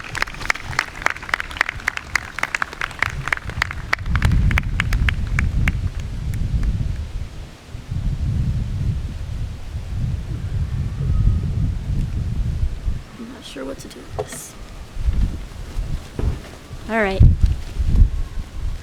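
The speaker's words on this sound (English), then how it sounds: "Sorry guys, it's windy" Gusty wind buffets the microphone in loud, rumbling bursts at an outdoor university convocation, with intermittent voices and faint crowd noise in the background.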